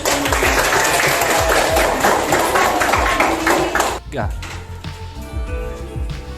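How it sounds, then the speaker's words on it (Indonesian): A class of students applauds together in a village school lesson, dense clapping for about four seconds that then fades into quieter room sounds, with voices mixed in. "tepuk tangan kita bersama"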